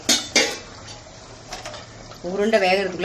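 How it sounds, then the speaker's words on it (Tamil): Metal ladle clanking and scraping around a pot of lentil ball curry (paruppu urundai kuzhambu), two sharp knocks near the start, then a voice over the stirring. "கரண்டி இந்த மாதிரி சுத்தி விட்டா போதும்"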